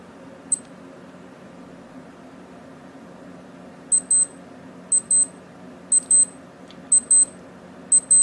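A Casio G-Shock GBD-800 wristwatch alarm sounds close and clear as high, thin electronic beeps: one short chirp, then after a pause a steady run of rapid double-beep pairs about once a second over a quiet room hum.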